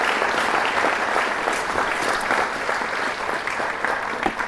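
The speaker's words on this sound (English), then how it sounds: "Please give them a round of applause." An audience at a USO Illinois event claps together in sustained, even applause that stays loud and dense throughout.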